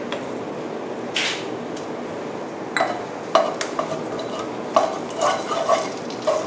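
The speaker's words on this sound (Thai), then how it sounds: "ผัดให้น้ำพริกมีกลิ่นหอมนะคะ" Panang curry paste is stir-fried in vegetable oil over low heat with pork belly and long beans, giving a low sizzle broken by intermittent spatula scrapes and metallic clinks against the pan.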